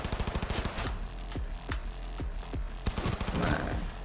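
Rapid bursts of gunfire in Cyberpunk 2077 crack in quick succession, a dense fusillade of repeated shots ringing loud and steady throughout.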